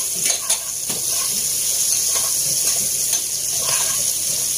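Ginger sizzles steadily in a hot pan for chicken tinola, with a bright continuous crackle and a few sharp clinks of a utensil stirring against the metal.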